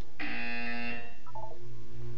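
A Portal 2 buzzer gives one steady, bright electronic tone lasting under a second. A few short, quieter beeps follow over a faint low background hum.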